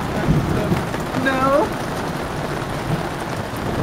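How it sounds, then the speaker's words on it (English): Rain patters on a campsite in a steady, loud, close wash of noise, with a brief voice-like sound rising above it early on. "Have fun in the rain."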